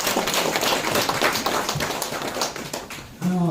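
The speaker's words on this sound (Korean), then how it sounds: "박수 한번 힘차게 보내주시고" A crowd at an art association's general meeting gives a strong burst of applause, dense and continuous clapping that eases slightly before a voice speaks over the end.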